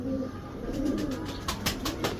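Pigeons in a loft or coop give soft low cooing amid light rustling and a few brief higher chirps, steady and fairly close with no talk.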